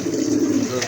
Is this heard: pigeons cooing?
yes